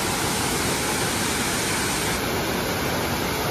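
A swollen waterfall with high water roars as a constant, loud broadband rush, close and unbroken throughout, with no voices over it.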